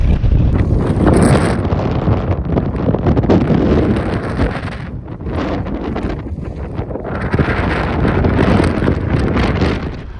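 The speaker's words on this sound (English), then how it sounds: "Oh, it is windy" Powerful wind roars across an exposed hillside in bad weather, a loud, continuous buffeting against the microphone that swells and eases in gusts.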